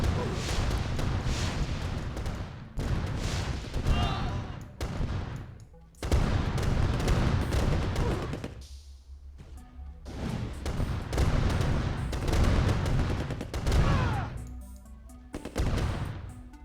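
Battle in Command and Conquer Red Alert with repeated bursts of gunfire, explosions and crashing, loud and dense in choppy stretches broken by brief pauses, over a long skirmish.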